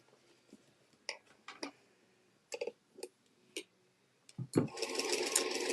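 A sewing machine stitching in the ditch on a quilted table runner: a few short clicks and brief bursts of stitching, then a loud, steady run of fast stitching to the end.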